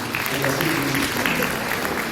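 An audience at a strategic planning session applauds the team, steady clapping filling the room for a couple of seconds while a voice talks over it.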